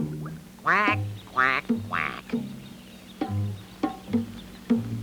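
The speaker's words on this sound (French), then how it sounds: "un gros canard blanc s'approcha de lui" A duck quacks repeatedly nearby, a few loud drawn-out quacks followed by shorter clipped ones, spaced unevenly with quiet gaps.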